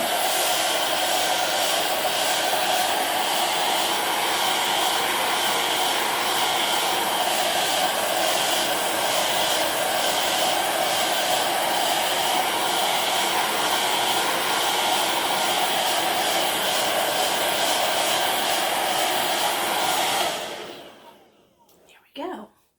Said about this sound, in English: I'm going to quickly use my hair dryer to dry it